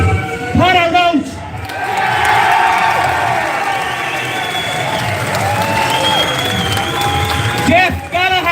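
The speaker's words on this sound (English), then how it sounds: "give us the biggest round of applause you can" An outdoor crowd outside Custom House bursts into sustained applause and cheering, with whoops and shouts rising over the clapping.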